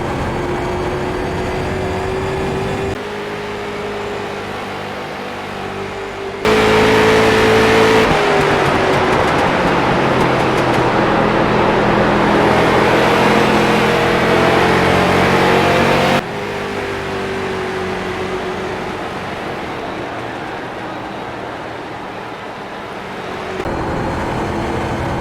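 Street stock race car engine lapping Richmond Raceway in iRacing, a steady droning roar that swells louder mid-lap and then settles back, continuous with no talking.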